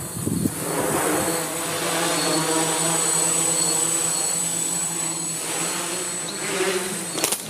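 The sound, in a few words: Aerosky C6 quadcopter with APM 2.6 flying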